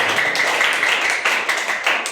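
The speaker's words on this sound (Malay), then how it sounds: "Bagi tepukan sikit pada tuan-tuan." Clapping from a small audience, a continuous patter of hands with a few sharper individual claps and a faint steady tone running through it.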